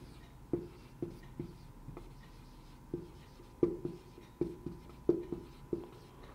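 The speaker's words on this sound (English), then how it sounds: "now we'll write here depreciation" Pen writing on paper while working through a reducing-balance depreciation calculation: soft, quiet scratchy strokes with small taps at a fairly regular pace, close and alone in a still room.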